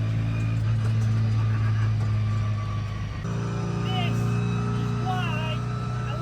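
A 1992 Minisport-built Mini with a petrol engine drones steadily at close range while driving at modest speed, a strong low hum with whining tones throughout, and faint chirping higher sounds in the second half.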